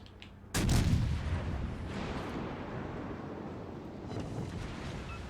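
Naval guns firing HE shells in World of Warships Legends, a single heavy booming salvo that gives way to a long low rumble and wind-like roar, loud with no talk.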